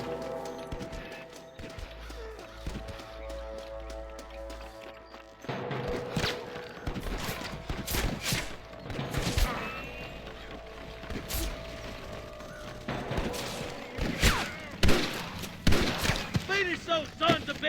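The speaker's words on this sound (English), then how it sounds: "I can hear more gunshots." Rapid bursts of gunfire crack and echo amid shouting voices and hoofbeats, with music playing underneath throughout, in Red Dead Redemption.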